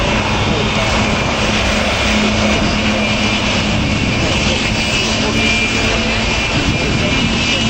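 Aerobatic aircraft in formation at the Royal International Air Tattoo at Fairford pulling out of an inverted dive: a steady, loud propeller-engine drone holds throughout while a commentator speaks over it.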